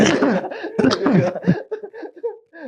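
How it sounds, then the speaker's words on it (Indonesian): A few loud, close coughs, partly mixed with laughter-like bursts and a throat-clearing sound. "Gue batuk mulu"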